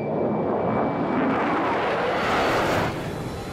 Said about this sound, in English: Nellis Tower, you're cleared for takeoff.